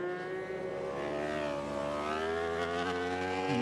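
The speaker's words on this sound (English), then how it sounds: "that's a lovely sound from the cross-plane Yamaha engine" A cross-plane Yamaha racing motorcycle engine at the Suzuka 8 Hours endurance race howls steadily at high revs, its pitch rising and falling through gear changes, loud and continuous with no talk over it.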